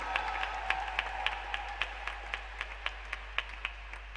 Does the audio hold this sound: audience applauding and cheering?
yes